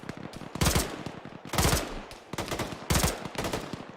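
Automatic gunfire in the military shooter game Arma 3, suppressing an enemy vehicle: rapid loud bursts of shots with sharp cracks and rolling echoes, repeating in clusters close by.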